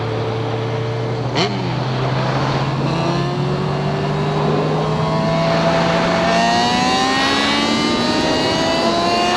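A Yamaha FZ6R sport motorcycle engine drones steadily as it rides along a road, its pitch slowly rising through the gears with a raspy, close-up tone.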